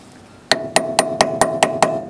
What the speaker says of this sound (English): and hammer it in so it's nice and secure.